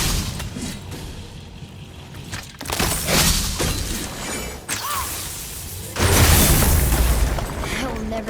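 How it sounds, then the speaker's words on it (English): Objects shattering in God of War, with several loud crashing bursts and booming impacts, breaking debris and whooshes spread across the stretch, close and heavy with game effects. "I will never get tired of shattering things with this"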